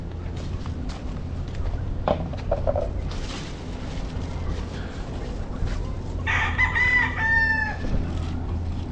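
Breeding roosters in a rural yard, one crow ringing out clearly near the end over a steady background of clucking and farmyard noise, with no talk.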